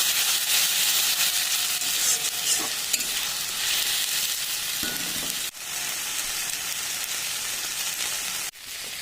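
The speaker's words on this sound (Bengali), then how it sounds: "পেঁয়াজটা ভালো করে ভাজা হয়ে গেছে এবার আমি দিয়ে দিচ্ছি আদা রসুন জিরে আর কাঁচা লঙ্কা মশলা" Onion sizzles loudly in a pan with ginger, garlic, cumin and green chilli, a close, constant frying hiss broken by stirring scrapes and two sharp knocks.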